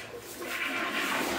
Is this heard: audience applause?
no